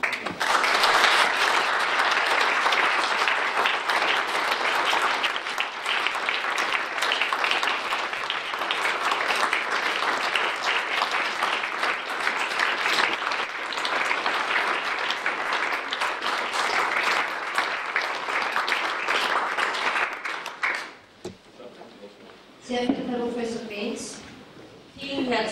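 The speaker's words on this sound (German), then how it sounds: "Applaus" Audience applause after a lecture in a hall, loud sustained clapping from many hands lasting about twenty seconds before tapering off, followed by a few seconds of someone speaking.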